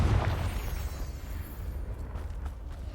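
A Confringo spell bursts in Hogwarts Legacy, a deep booming explosion at the start that rumbles and fades over a few seconds.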